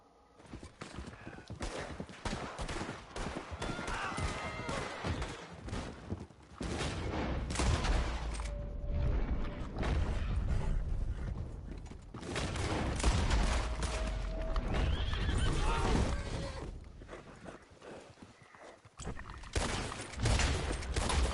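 Bursts of rapid gunfire crackle repeatedly in Red Dead Redemption 2, mixed with hoofbeats and a horse's cry as the horse is shot, busy and fairly constant throughout.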